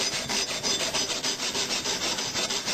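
A belt sander shapes metal cantilever brake posts on a bicycle fork blade, giving a steady, close, abrasive rasping that rises and falls in quick, even strokes.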